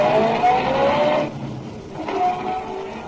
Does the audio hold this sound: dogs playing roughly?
no